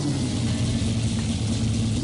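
A Corvette dragster engine in the Bounty Drag Racing video game, a deep, loud, continuous rumble at close range that holds steady for about two seconds, with no talking.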